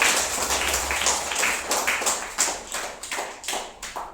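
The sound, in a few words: children clapping for a classmate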